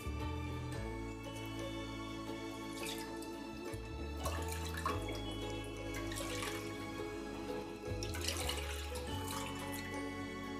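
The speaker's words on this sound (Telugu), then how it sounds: "4 కప్పులు వాటర్ పోసుకోవాలి." Four cups of water pour into a pan on the stove for ragi sangati. A continuous splashing stream runs alone for about ten seconds, with a steady tonal layer underneath.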